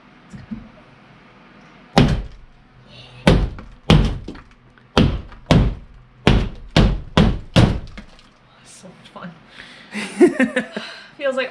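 Heavy thuds of a wall being banged on during a bedroom renovation, about ten loud, evenly spaced blows, close and echoing, followed by brief talk and rustling.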